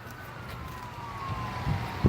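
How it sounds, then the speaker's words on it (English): Police sirens wail faintly in the distance across town outside, a thin sweeping tone over low background rumble, with a couple of soft knocks near the end. "I'm hearing all kinds of police"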